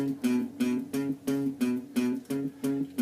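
A walking blues riff on guitar played straight without swing, with evenly spaced plucked notes in a steady, repeating pattern, close and clear with no talking.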